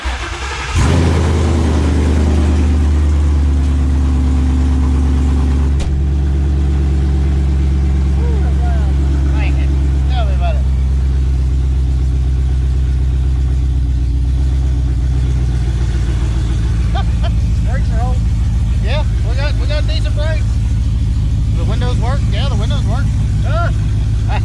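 A Foxbody Mustang with open headers starts and idles loudly up close, a deep lumpy rumble that holds steady for over twenty seconds, with people talking over it.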